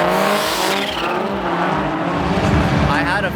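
Drift cars at a night drift event in Brazil roar and squeal their tires, a loud sustained wash of engine and skid noise with a voice talking over it throughout.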